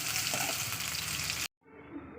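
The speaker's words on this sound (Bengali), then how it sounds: "এবার দিয়ে দেবো পেঁয়াজ, দিয়ে দিচ্ছি পেঁয়াজ। পেঁয়াজটাকে একটু লালি করে ভেজে নিতে হবে।" Onions frying in mustard oil, a loud dense hiss that cuts off abruptly, then returns more quietly.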